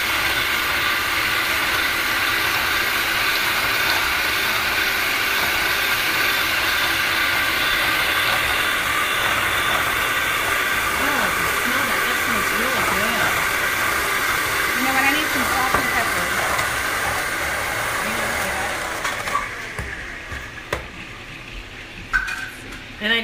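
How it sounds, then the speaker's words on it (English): An electric mixer beats egg yolk while oil is gradually added, part of making Scotch eggs. A loud, steady motor whir runs unbroken for about nineteen seconds, then cuts off abruptly, leaving only quieter kitchen sounds. "So this is going to be loud, and I apologize. See, did I tell you that's a Tim the Toolman Taylor mixer?"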